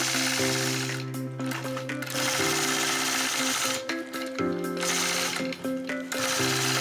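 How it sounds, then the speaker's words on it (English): A sewing machine quilting a heart flag quilt runs in close, rapid stitching bursts with short pauses between them, stitching in the ditch between fabric strips. "I'll travel up and stitch in the ditch between the first 2 strips"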